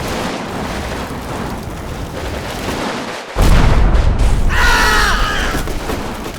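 Tank and infantry fire striking a station building in the Combat Mission Stalingrad wargame: a steady crackle of distant gunfire, then a loud boom of impact at the midpoint followed by sustained rumbling battle noise.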